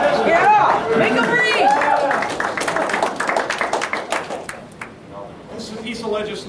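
Audience applause at a town hall meeting, a crowd clapping densely in a hall with overlapping chatter and voices, the claps thinning into scattered individual hits before fading.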